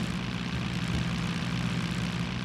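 A single-engine propeller airplane heavily loaded with full fuel tanks drones steadily and loudly throughout, a continuous low engine roar with no talk.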